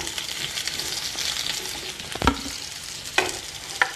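Mixed vegetables for Bengali shukto (pumpkin, potato, ridge gourd, pointed gourd, green papaya) frying and being stirred in a pan, a steady close sizzle broken by a few sharp clatters of the spoon against the pan.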